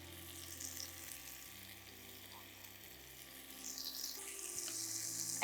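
Eggplant slices fry in a pan over high heat, a steady close sizzle and crackle that builds louder toward the end, with faint clinks and no talk.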